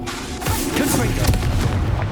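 Fiery Confringo spell blasts in Hogwarts Legacy, a dense run of booming bursts that stays loud and continuous across the whole stretch, with game voices mixed in.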